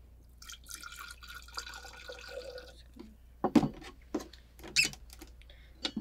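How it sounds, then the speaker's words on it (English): Two shots of Patron Silver tequila poured while mixing a cocktail: quiet, short liquid splashes and gurgles with a few small clinks, set against a soft, low room hum. "So we're gonna add two shots of the Patron."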